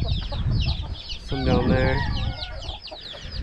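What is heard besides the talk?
chickens clucking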